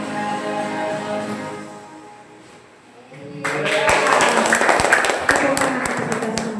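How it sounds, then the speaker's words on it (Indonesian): Audience applause at an Indonesian school guidance-counselling dissemination event, with dense clapping starting about halfway through and growing loud and sustained after an earlier stretch of talk and music. "Tepuk tangan untuk kita semua."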